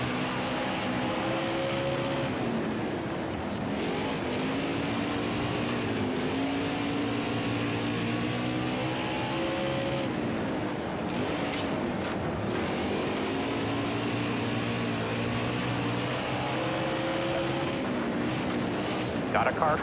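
Race car engine from the NASCAR Heat 5 dirt track video game, a steady droning motor with shifting pitch that rises and falls through corners, running continuously under a voice talking.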